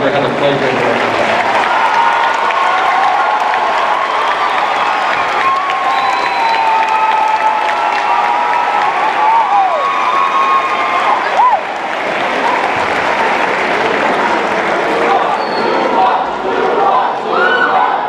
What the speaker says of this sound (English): I am going to ask the students to join me in a round of applause and thanks for one of the finest and most talented faculties